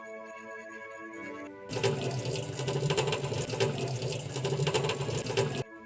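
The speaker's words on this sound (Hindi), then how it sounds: "अब हम इसे पानी को स्ट्रेन कर लेंगे।" Water from parboiled rice for a Hyderabadi white chicken biryani pours steadily through a strainer, a continuous close rushing splash lasting about four seconds after a short quiet tonal lead-in, then stopping abruptly.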